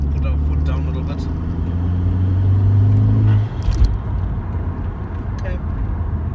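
A Mk4 VW Golf GTI with a 1.8T 20v engine and freshly changed suspension accelerating on a test drive, heard from inside: a steady engine hum that rises in pitch and strength, then drops sharply after a bump or clunk, with road rumble continuing.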